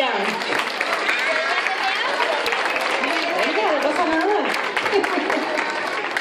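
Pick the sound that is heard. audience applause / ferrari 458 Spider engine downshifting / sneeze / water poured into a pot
audience applause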